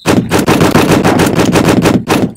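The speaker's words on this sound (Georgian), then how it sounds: "როგორც გესმით, ესე იგი უფრო მრავალფეროვანი გახდა აი ამ პისტოლეტის სროლა." Rapid pistol gunshots from a video game ring out one after another in a dense, loud burst of repeated cracks with short gaps between them.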